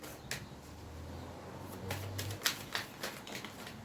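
Tarot cards being drawn and shuffled on a table, a few soft crisp slaps and flutters scattered irregularly, faint and near, with no voices.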